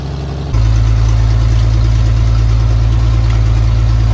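Engine of a rusty Toyota FJ40 catching and settling into a loud, steady rumbling idle after a brief starting burst, close by and alone with no speech.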